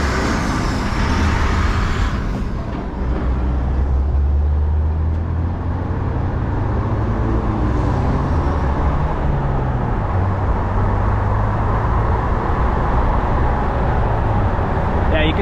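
Inside a moving 2021 Ford Bronco with its 2.3-liter EcoBoost engine, a steady low drone blends with continuous road and tire noise, loud and unbroken throughout.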